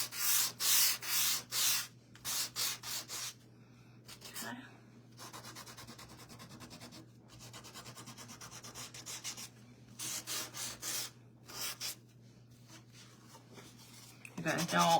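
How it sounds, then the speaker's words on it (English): A wooden cutting board is sanded lightly by hand, with close, raspy rubbing strokes in repeated bursts and short pauses between them. "you definitely don't have to sand it. And I'm just going over it lightly."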